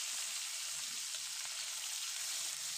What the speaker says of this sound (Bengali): তো এখানে মাছগুলো সুন্দর করে ভেজে নিলাম